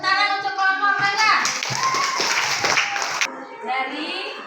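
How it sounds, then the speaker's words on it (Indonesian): A classroom of children breaks into applause for the mango group, a dense burst of clapping lasting a couple of seconds, loud and close, framed by a voice and children talking before and after. "sekarang kita berikan dulu tepuk tangan untuk kelompok mangga."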